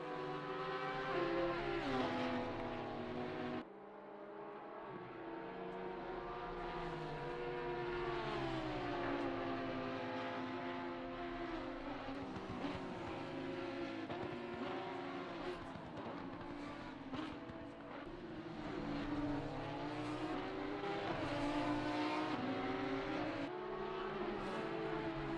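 GT3 race cars circling Bathurst in Assetto Corsa Competizione, engines droning loud and steady with rising and falling pitch as gears shift, several cars layered together, one brief dip in the roar.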